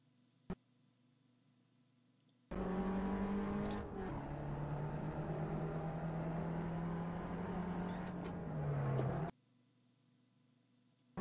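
Racing cars at the start of a race roar steadily for about seven seconds, a loud engine drone with a shifting pitch that begins and stops abruptly.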